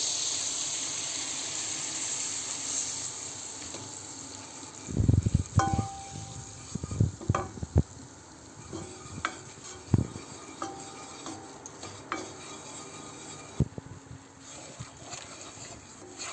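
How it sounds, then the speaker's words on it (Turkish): Flour being stirred into melted butter in a cooking pot, with a steady hiss of low sizzling and a run of scraping, clinking spoon strokes against metal that come irregularly over the background. "İçerisine 2 yemek kaşığı unumu ilave edip karıştırıyorum."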